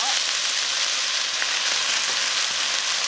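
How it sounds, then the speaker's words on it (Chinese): Pork intestines stir-fry in a hot wok, giving a steady, loud hissing sizzle with faint scraping touches throughout. "肥肠先炒"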